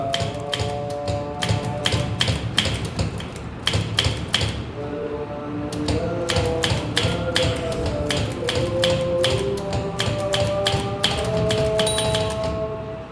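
Rapid clacking keystrokes from a manual typewriter during a basic typing lesson, close and crisp, coming in quick bursts with short pauses between runs.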